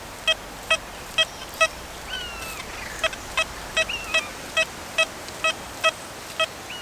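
Deus 2 metal detector on its factory sensitive program, sounding repeated short, evenly spaced beeps over a silver coin, crisp and close above a faint hiss, with no talk.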